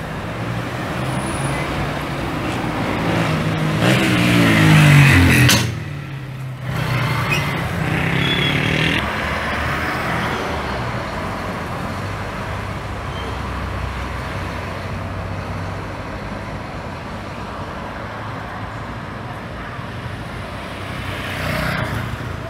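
An intercity bus pulls into the Governador Valadares road terminal in the morning, its engine swelling loud and near before easing off, followed by a steady wash of surrounding road traffic.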